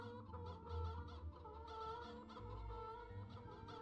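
Chicken clucking from the video game Poppet Quest, loud and repeated over a busy game soundtrack, with low thumps and rhythmic clucks running through the whole stretch.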